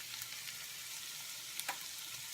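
Hungarian paprika and flour mixture being stirred into a pot of chicken paprikash, a soft steady sizzle-like hiss throughout with a couple of faint scraping clicks near the end, quiet and close.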